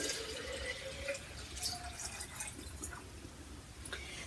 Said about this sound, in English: So we put clean water into the bottle part.